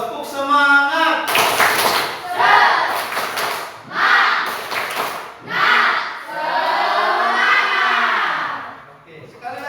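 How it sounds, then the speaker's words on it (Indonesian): A classroom of students claps out a rhythmic chant-and-clap cheer together, loud bursts of group clapping and shouted chanting that come in separate phrases, with a teacher's voice leading between them. "Ice breakingnya adalah tepuk semangat."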